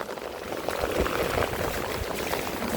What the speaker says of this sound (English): if that drain tile is backflowing by the building or if it's properly draining